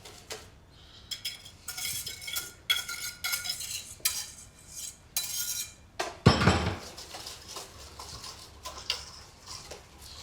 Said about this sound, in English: Slowly I'm going to incorporate the milk into the eggs.